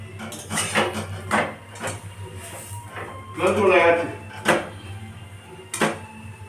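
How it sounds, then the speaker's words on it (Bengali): Vegetable paratha fries in a pan while a spatula presses its edges down, giving repeated close clanks and scrapes against the metal. A voice talks over it throughout. "একটু চেপে চেপে ধারগুলো চেপে চেপে দিয়ে ভাজতে হবে লাল লাল করে মুচমুচে করে ভাজতে হবে"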